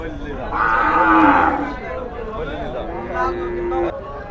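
A cow at the Noymail cattle market in Chuadanga gives one loud, close, drawn-out moo, with faint crowd murmur around it.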